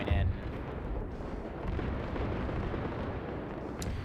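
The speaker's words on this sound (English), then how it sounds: "Artillery is now coming in." Artillery fire and explosions in a military drone-warfare video game make a dense, continuous rumble of distant booms and blasts, heavy in the low end and holding steady throughout.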